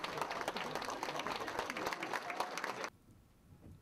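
Many city hall staff clapping as a departing education superintendent leaves, dense sustained applause that cuts off abruptly near the end, leaving faint room noise.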